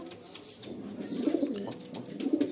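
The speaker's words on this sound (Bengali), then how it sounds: "ব্লু টোটের পায়রা, পুরোনো লাইনের পায়রা" Blue tote pigeons from an old line coo close by in a loft, low throaty rolling coos repeating in two bouts, with a faint high whistle-like tone drifting over them.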